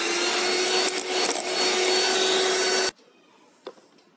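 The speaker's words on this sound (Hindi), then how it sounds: "और इसे फिर से व्हिप करेंगे।" An electric beater whips cream icing with powdered sugar and a few drops of vanilla essence, a loud steady whirring that runs for about three seconds and then cuts off, leaving near silence with one small knock.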